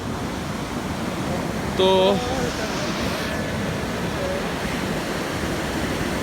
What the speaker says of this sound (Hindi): ये देखो खुद ही पानी का शोर कितना है